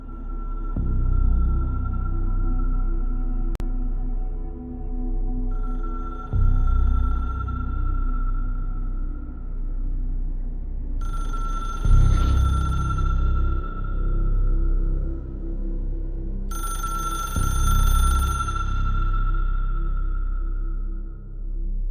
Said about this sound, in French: Et le petit téléphone rouge qu'il va falloir trouver.